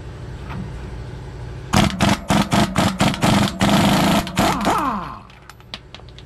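A 1/2-inch air impact gun with a 1-1/8 socket hammers off the pinion nut of a 2006 Ford F-250. About eight loud, close rattling bursts run into one longer burst, then a compressor hum remains.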